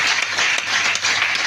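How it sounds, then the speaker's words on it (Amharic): A church congregation breaks into steady applause for the Lord at a worshipper's call, a dense, close wash of many hands clapping continuously with no break. "አጨብጭቡልኝ"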